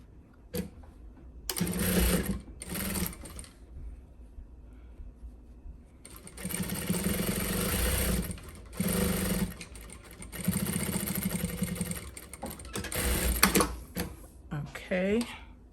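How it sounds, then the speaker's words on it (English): A sewing machine stitching fabric for a storage bin runs in several loud, close bursts of rapid mechanical whirring, separated by pauses. "we are going to stitch from the top to bottom"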